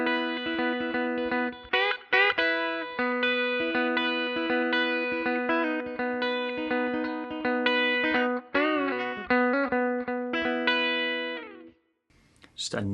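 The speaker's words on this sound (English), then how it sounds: "This is a great switch over to get that classic country clean tone." Clean electric guitar through a Fractal FM3/FM9/Axe-FX III modeled Fender Bassman amp, miked with a 57 and a 121, set for a classic country clean tone on a song, plays sustained chords and picked melodic lines steadily with a chorus effect, close and full, ending briefly quieter.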